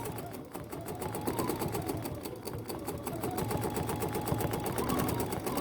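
A Bernina sewing machine with stitch regulator runs its motor while stitching, a steady, fast mechanical whir with rapid rhythmic needle ticking, close and continuous.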